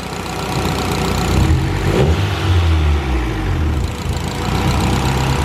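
A turbocharged Honda B18 engine on a dyno revs up loudly and then falls back toward a rough, unsteady idle, its tone sagging as if about to stall, with steady mechanical drone throughout.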